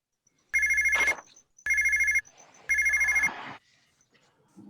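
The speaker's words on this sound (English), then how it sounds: "His phone rings." A telephone rings three times in even bursts, each a bright electronic trill about half a second long with short gaps, close and clear, followed by quiet with faint sounds.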